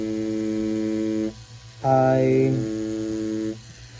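A tattoo machine runs with its needle pushing up and down while working a detailed flower tattoo, giving a steady electric buzz that stops briefly, returns at a higher, stronger pitch, then fades back to a lower hum.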